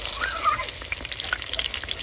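Fish frying in a pan in a village kitchen, a steady close sizzle and crackle with scattered pops running throughout, no voices.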